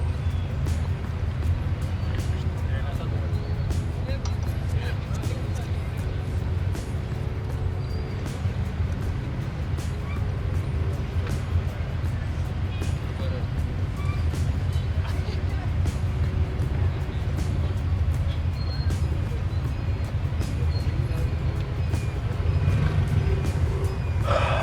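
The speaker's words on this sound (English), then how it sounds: "This traffic, boy." Road traffic rumbles on continuously, with a low, heavy drone of engines and passing vehicles. Scattered clicks and small knocks sit on top, and the level stays steady throughout.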